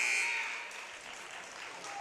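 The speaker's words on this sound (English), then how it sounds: "Just beats the buzzer there for Sean Wilson" A basketball game clock buzzer sounds at halftime of a women's gold medal game, a brief electronic tone at the start over crowd noise and cheering in a gym, with a commentator talking.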